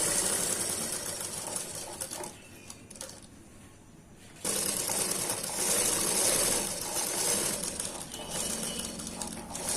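A sewing machine stitches the round edge of a high closed-neck blouse collar, running as a steady close mechanical whir that briefly softens and pauses before resuming at full speed.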